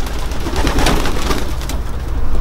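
Pigeons coo close by in a dense, continuous murmur of soft throaty calls.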